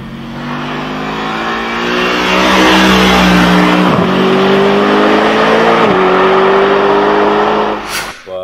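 Mercedes-AMG 6.3-litre naturally aspirated V8 revving hard, a loud close engine whose pitch climbs through several gear changes before dropping away at the end.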